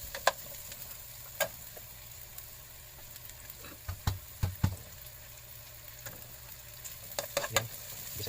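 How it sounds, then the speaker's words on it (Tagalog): Ginger sautéed with onion in a pan, a soft continuous sizzle with scattered spoon taps and scraping knocks from stirring, clustered in short bursts, moderately quiet, no talking. "Gisa-gisa lang, halo-halo."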